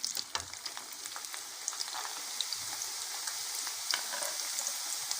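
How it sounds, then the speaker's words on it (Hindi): Steady crackling sizzle of french fries frying a second time in hot oil, dense and continuous with scattered louder pops, no talking. "अब हम इनको दोबारा ऑयल में डालेंगे।"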